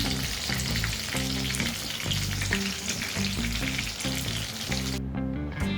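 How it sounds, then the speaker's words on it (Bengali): Katla fish frying in hot oil, a loud steady sizzle and crackle that runs throughout, heard alone without any talk. "মাছ হালকা করে ভেজে নেওয়া হয়ে গেছে"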